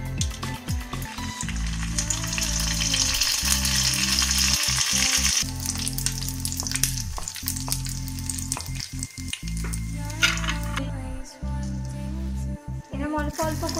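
Dried koli papad strips frying in about half a cup of hot white oil, a loud steady sizzle that keeps running with short bursts and stirring clatter, while a low droning background hum carries underneath throughout.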